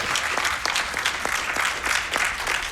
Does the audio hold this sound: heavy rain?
no